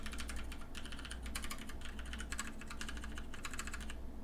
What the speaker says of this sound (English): Let me have you listen to it again closer to the microphone so you can really hear it. Okay. This is a normal key.